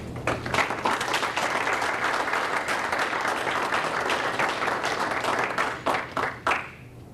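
A seminar audience breaks into sustained applause welcoming the speaker Maury Klein, steady and full for several seconds before thinning out into a few scattered claps.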